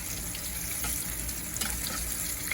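Onion petals frying in vegetable oil, a steady dense sizzle and crackle that holds at an even level throughout, with small pops scattered on top and no one talking.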